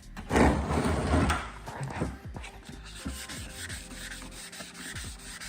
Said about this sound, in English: And so basically keep sanding until you don't see no hazy stuff coming out.